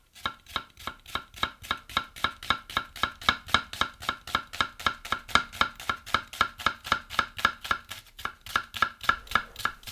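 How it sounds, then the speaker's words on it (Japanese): A kitchen knife finely minces onion on a cutting board while cream-stewed porcini is being prepared, producing a fast, even run of crisp, close chopping taps with no talking. "まず半分に切ってこのまましずれしていきます。"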